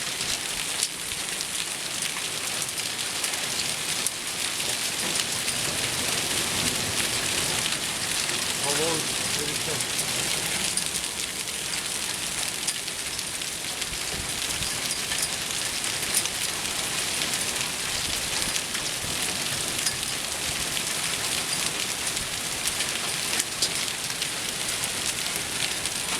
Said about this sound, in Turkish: Öyle bir dolu yağıyor ki.